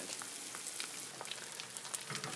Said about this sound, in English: We're just going to fry these until they're golden brown, and then flip them over and brown up the other side